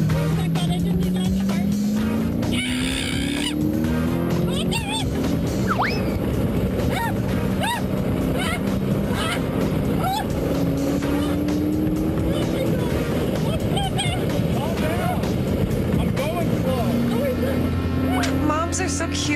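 Race car driven hard on a California racetrack, engine roaring continuously with rising and falling revs and occasional tire squeal, loud and close, with voices talking over it throughout.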